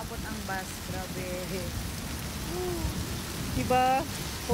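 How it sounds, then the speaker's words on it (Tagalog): Heavy rain pours steadily as a dense, continuous hiss, with people talking faintly over it and one rising call near the end. "Kusog kayong ulan."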